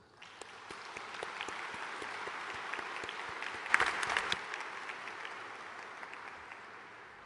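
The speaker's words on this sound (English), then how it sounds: "Let us give a round of applause for our MC13 host" Steady applause from a large crowd at the opening ceremony of the WTO ministerial conference MC13, sustained clapping that swells briefly midway and then continues evenly to the end.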